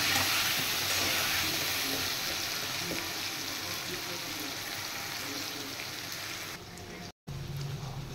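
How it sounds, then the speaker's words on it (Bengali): Pieces of elephant foot yam coated with turmeric and salt fry in hot oil, making a continuous loud sizzle with faint stirring that holds throughout and drops out briefly near the end. "এবার ওলগুলো ভেজে নেব"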